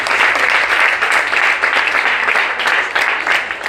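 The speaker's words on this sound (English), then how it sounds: "Please, let's give a round of applause to Nuku College." Loud, steady applause from an audience at a college spelling bee event, continuous dense clapping close by for the whole few seconds.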